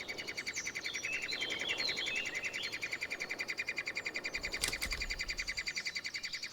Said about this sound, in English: Just before the little woodpeckers get ready to fly, they need huge amounts of food and keep their parents busy with their constant begging.